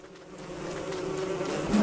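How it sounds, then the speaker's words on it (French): Bees buzz in the video game Don't Starve, a continuous low droning hum that swells slightly louder toward the end, with no talk. "il s'éloigne des abeilles"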